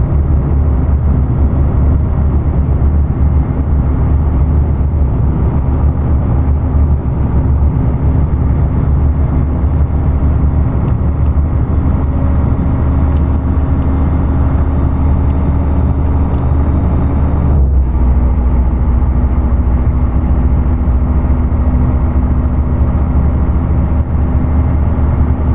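A Freightliner Classic XL with a Detroit engine in American Truck Simulator, pulling a trailer loaded with Budweiser, droning loudly and steadily with a high whine on top and a brief dip as the pitch shifts partway through.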